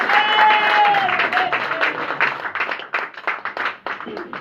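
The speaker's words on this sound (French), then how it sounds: "Nous pouvons encourager les chantres par les acclamations." A church congregation applauds and cheers at a French-language seminar. The crowd claps and cheers loudly, dense and continuous for a few seconds, with voices rising through the noise.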